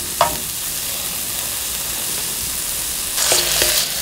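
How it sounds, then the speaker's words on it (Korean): Onions stir-frying in a generous amount of olive oil, a steady close sizzle with brief clinks and scrapes of stirring near the start and again toward the end. "양파를 넣고 올리브 오일 좀 넉넉히 해줍니다."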